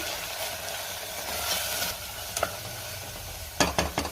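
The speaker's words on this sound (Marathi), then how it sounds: "आता हे सगळं व्यवस्थित मिक्स करून घेऊया" Spices, chilli powder and coriander powder are stirred in a hot pan for tomato pulao. A soft sizzle runs throughout, with a few light scrapes of the spoon and sharp metallic clinks against the pan near the end.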